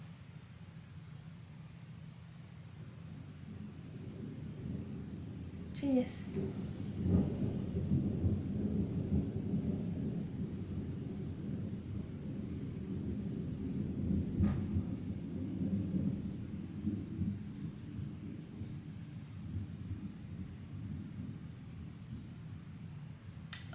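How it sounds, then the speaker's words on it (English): Thunder rolls through a storm, a long, low rumbling that swells and lingers for many seconds, with a brief spoken word in the midst. "It's gonna be loud. It's just lightning."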